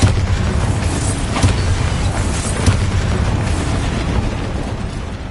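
Bombarda spell blast in the Hogwarts Legacy video game, a loud, dense rumbling explosion with a few sharper bursts inside a continuous roar of debris and effects.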